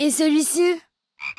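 A frog gives a loud, close run of deep, rhythmic croaks, then after a short pause a voice speaks briefly.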